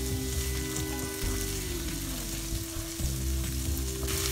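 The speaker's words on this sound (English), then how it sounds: "I'm gonna fry the onions for 3-4 minutes until they become" Onions fry in a hot pan for butter chicken, giving a loud, continuous sizzle and crackle with a steady hiss throughout and occasional stirring, with no voices.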